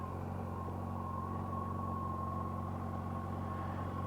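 A 2006 Yamaha FJR1300A with its stock exhaust idles steadily nearby on a wet road, a faint, even low hum with no revving.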